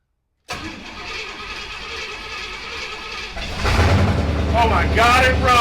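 Chevy Bel Air engine on Holley Sniper EFI, a steady starter whirr for about three seconds, then the engine catches and settles into a loud, close idle while a voice shouts excitedly over it.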